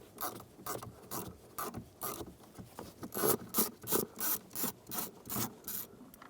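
Torx screw being backed out of a 2012-2020 Ford Focus dashboard, a steady run of soft rhythmic ratcheting clicks and rubs close up, with no talking.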